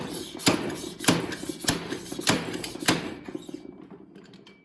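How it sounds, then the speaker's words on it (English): A dirt bike fork tube is driven like a slide hammer to press a suspension seal past the clip groove, giving five evenly spaced sharp metallic knocks over a steady background, then quieting. "Just gonna use it like a slide hammer and just press that seal in."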